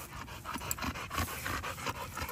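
A small dog pants in quick rhythmic breaths on grass outdoors, faint and steady under a hiss of background noise, with no talk.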